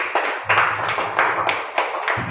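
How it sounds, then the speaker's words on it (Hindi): Audience members clap in response to a sales pitch, a few hearty bursts of hand claps with short gaps between them, moderately close and under a faint murmur of voices. "एक बार इसके लिए जोरदार ताली दीजिए"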